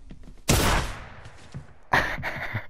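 Fortnite gunfire, a loud close burst of several shots followed a moment later by another volley, with no talking over it.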